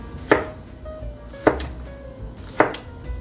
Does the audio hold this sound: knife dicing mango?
yes